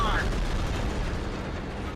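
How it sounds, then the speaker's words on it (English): A deep, rumbling shell explosion in World of Tanks with a rolling, sustained roar that fills the whole clip, heavy and loud with a brief higher whine at the start. "to the explosions"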